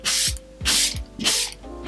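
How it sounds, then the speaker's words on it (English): Makeup setting spray misted from a pump bottle in three quick, close hissing bursts, each starting with a sharp click of the nozzle. "I'm gonna spray one last time"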